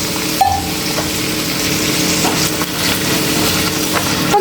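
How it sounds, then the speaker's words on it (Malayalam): Chopped spinach stems sauté in a hot pan, giving a loud, continuous sizzle and hiss with faint stirring scrapes, and no voices. "നന്നായി ഒന്ന് വഴറ്റിയെടുക്കാം നമുക്ക്"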